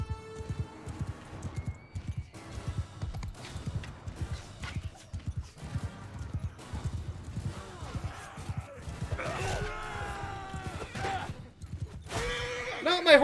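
A horse whinnies amid battle in Mount & Blade II: Bannerlord, with galloping hoof clip-clops, clashing combat noise and someone shouting throughout.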